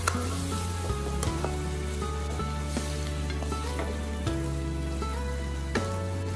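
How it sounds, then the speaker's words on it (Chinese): Braised tofu and chopped chives stir-fried in a wok, a steady loud sizzle with scraping stir strokes recurring every second or two, no voices. "最后再把切好的韭菜放进去，翻拌均匀，给它翻炒个十几秒钟"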